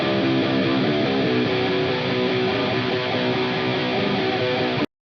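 A dense, heavily distorted electric guitar through an amp simulator plays a continuous riff at full volume for a few seconds, then cuts off abruptly.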